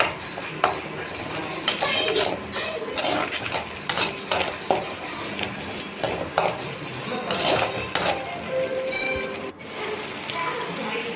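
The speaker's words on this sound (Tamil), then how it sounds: "கொஞ்சம் சிக்கன் தூள், கொஞ்சம் மிளகாத்தூள் ரெண்டையும் சேர்த்துட்டு ஒரு கலக்கி விட்டுருங்க." Pasta gravy with chicken powder and chili powder being stirred in a pan, with repeated metallic scraping and clinking of a utensil against the pan in irregular bursts, close and moderately loud, with some faint background speech.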